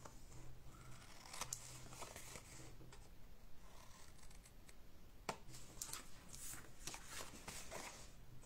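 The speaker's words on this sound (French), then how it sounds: "Et là, je vais juste couper très légèrement." Scissors trimming paper very lightly at a slight bevel, a few soft crisp snips and rustles close by, fairly quiet with no talking.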